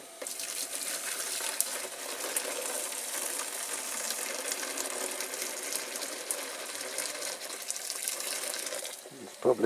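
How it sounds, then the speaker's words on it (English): Water streams steadily into a pot, a continuous close splashing gush lasting several seconds before it stops with a clatter. "In with the water."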